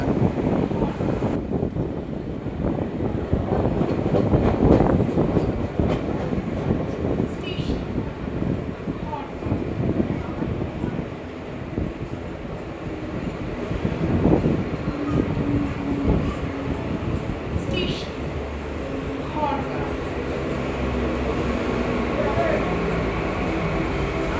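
Sealdah to Barrackpore local train ride, with a steady rumble of the moving carriage and wheels on the rails plus wind buffeting, loud and continuous for the whole stretch, and passenger voices murmuring underneath.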